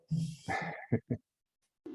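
A dog barking during a Spanish-language online discussion, a few short close barks and yips in quick succession, followed by silence and a faint sound at the end.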